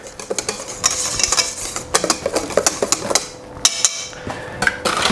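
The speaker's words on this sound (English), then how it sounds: "just to loosen those egg whites up slightly. Just give them a quick mix, very lightly." Egg whites for an almond cake batter are mixed lightly with quick, rapid clinks and taps of a utensil against a bowl, close and crisp, with no talking.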